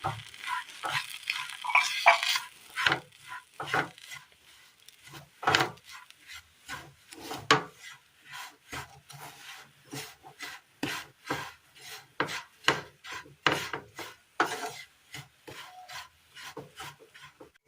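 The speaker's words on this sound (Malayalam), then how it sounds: "എല്ലാം നല്ലതുപോലെ നമ്മൾ മിക്സ് ചെയ്തെടുത്തിട്ടുണ്ട്" Coconut milk and grated jaggery stirred together in a pan for a Kerala recipe, a close, steady run of scraping, rubbing strokes with wooden rasp-like texture, rhythmic and alone without talk.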